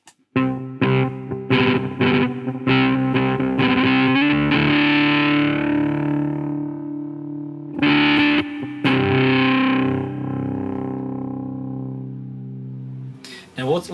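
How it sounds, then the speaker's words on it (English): An electric guitar played through a Midnight Amplification Devices Starburner filter pedal: distorted strummed chords and bursts with a sweeping filtered swell that rings out and fades, close and loud. "Now let's have a listen to the Starburner."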